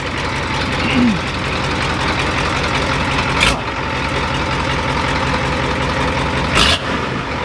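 A big diesel truck engine with a NASCAR-style exhaust idles with a loud, rough, rumbling exhaust, steady and close, with two sharp clicks punctuating it.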